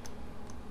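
Single computer keyboard key press, faint and close, with a couple of light clicks in a quiet room.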